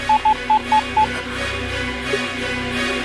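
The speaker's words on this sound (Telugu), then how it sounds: "ఫోన్ చేసి పిలు పిలు పిలు పిలు పిలు" Five short, evenly spaced keypad beeps sound in quick succession, then a steady low hum continues.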